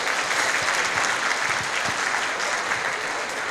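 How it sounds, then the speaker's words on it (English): Loud, dense applause from an audience at the opening night of a Lunar New Year flower market, sustained and close throughout without a break. "Give them a round of applause."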